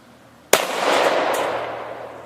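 A single loud shotgun blast aimed at a drum, one sharp crack followed by a long rolling reverberating tail that slowly fades.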